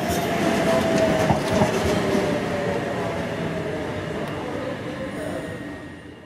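A City Rail Oscar set electric train rolls into Wollongong Station, its wheels clattering and humming loudly nearby, with a faint squeal, gradually easing and quieting as it slows, and a voice speaking over it.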